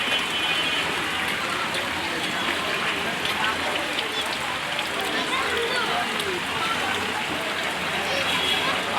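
Rain that has been falling since morning, a dense continuous hiss of drops on surfaces with a watery rush underneath, steady and fairly loud throughout.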